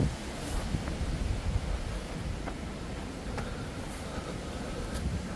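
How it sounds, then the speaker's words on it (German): Strong wind roars steadily across the microphone outdoors at a quarry overlooking vineyard landscape, a constant broadband rush with occasional gusty buffeting and no voices. "Das ist sehr windig."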